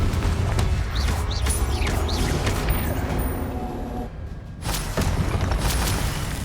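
Confringo fire spell blasts during a Hogwarts Legacy tower fight, with repeated booming impacts over continuous combat rumble. A brief lull comes before another burst of blasts, and short whooshing spell sounds cut through.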